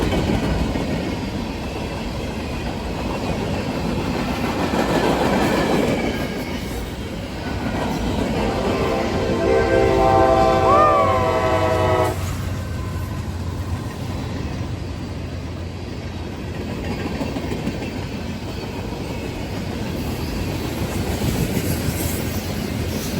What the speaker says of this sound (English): We got a CSX coming.